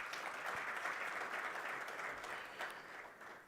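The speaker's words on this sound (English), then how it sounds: "I think they all deserve a huge round of applause." Conference audience at a national green hydrogen event applauding sponsors and partners, an even, continuous roll of many hands clapping, somewhat distant and soft, fading toward the close.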